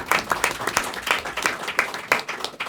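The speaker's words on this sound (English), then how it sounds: "And yes, that's worth applauding." Applause from an audience at a Capitol Hill event on diabetes research, a burst of claps in rhythmic waves, moderately close and steady throughout.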